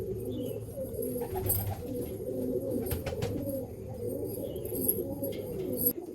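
Malwai pigeons coo in low, overlapping burbling calls, steady and fairly near, with occasional sharp clicks and rustles and no talking.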